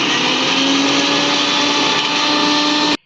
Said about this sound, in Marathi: तर आता हे काही तुम्हाला मिक्सरच्या साच्यात टाकून घ्यायचं आहे आणि त्याची पेस्ट बनवून घ्यायची एक चांगली.